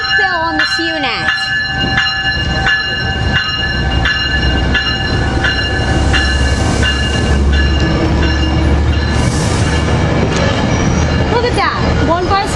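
A Metrolink commuter train led by a cab car rolls past at close range, with a steady rumble, rhythmic wheel clatter, a squeal and tonal whine, and people talking over it.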